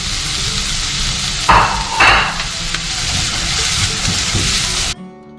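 Onion and carrot fry in a pan with a steady, dense sizzle, punctuated by a couple of sharper bursts as the vegetables are stirred, before the sound cuts off abruptly near the end.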